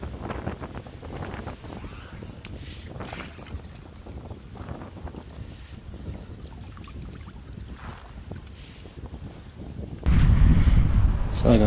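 Strong wind buffets the microphone at a lakeside fishing spot during method feeder fishing, a steady rushing roar throughout that grows louder and heavier near the end.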